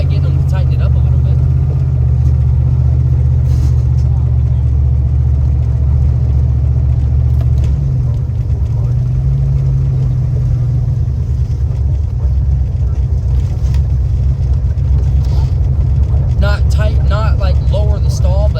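A turbocharged 383 engine car runs with a loud, steady, deep rumbling drone. The pitch shifts slightly midway, and a voice is briefly heard near the end.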